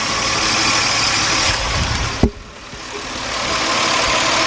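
A 1998 Nissan Maxima 3.0 engine idles close by with a rough, uneven running note and a sharp single clunk midway, followed by a quieter steady hum.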